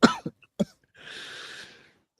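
Two or three sharp coughs close by, followed by a soft breathy exhale that fades out.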